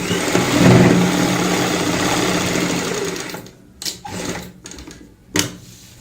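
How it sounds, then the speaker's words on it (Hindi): Sewing machine stitching a cushion cover, a dense continuous whirr for about three seconds, then short separate bursts of stitching with gaps between them, close and loud. "पक्का करते हुए यहाँ पे ऐसे सिलाई लगाएंगे"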